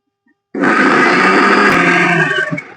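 A mixer grinder whirs loudly and steadily for about two seconds, blending gandhakadali leaves into a paste, then cuts off abruptly.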